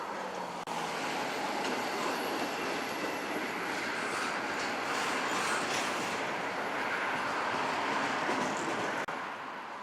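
CSX freight cars rumble steadily through a rail yard during switching, a dense continuous roar with faint wheel clatter and a thin squeal, distant to moderate and unbroken for the whole stretch, with no voices.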